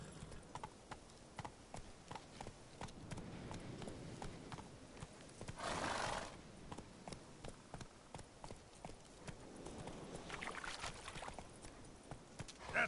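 Hooves of Roach, a horse in The Witcher 3, clip-clop steadily through a galloping run over quiet ambient game sound, with a brief louder rushing burst midway.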